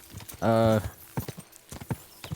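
Horse hooves in Kingdom Come: Deliverance II, a steady clip-clop of hoofbeats along with a short horse whinny near the start, while a person talks.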